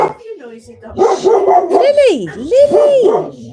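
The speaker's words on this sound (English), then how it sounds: "She always barks at Annie" A dog barks and yips indoors in a few loud, drawn-out, whining bursts, close to the listener, with no talk over it.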